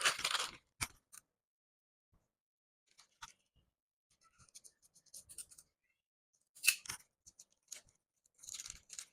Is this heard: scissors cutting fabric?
yes